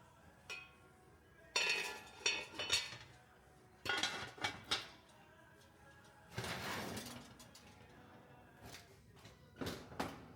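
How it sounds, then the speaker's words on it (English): Bread loaves dropped into preheated Dutch ovens and their heavy lids set on: a series of quiet, close clunks, scrapes and metallic clinks in irregular bursts separated by pauses, with no talking. "we're just going to drop the breads into those preheated Dutch ovens. And then we're going to cover it"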